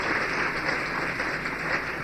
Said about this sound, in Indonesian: Beri tepuk tangan yang meriah kepada Tuhan.